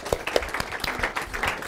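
Audience applause at a policy forum on America's war on terror, a short burst of scattered clapping from a room of attendees, fairly close and moderately loud with no talk over it.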